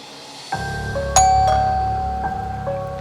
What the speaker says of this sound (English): I heard my doorbell ring.